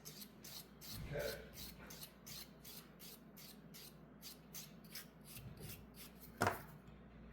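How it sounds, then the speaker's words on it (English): Metal file rasping at an angle across small jewelry links, a quiet series of short repeated strokes with brief pauses between them, close and soft. "And then I'm just filing, and I'm filing on an angle. I'm not filing straight across."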